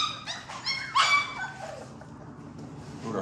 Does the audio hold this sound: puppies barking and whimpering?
yes